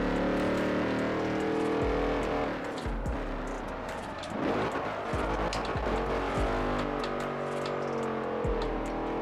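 A racing car engine roars loudly in Forza Horizon, revving up and down through gear changes, with squealing tyres mixed in and no talking.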